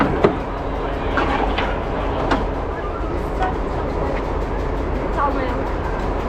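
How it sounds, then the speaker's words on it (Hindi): A passenger train runs along the tracks on a journey in Turkey, a loud steady rumble with occasional faint clicks and knocks, and voices talking underneath. "ट्रेन का सफ़र शुरू हो गया।"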